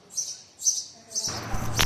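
House sparrows squabble with a few sharp, high chirps in quick succession, near and fairly clear, followed by a rougher burst of scuffling noise.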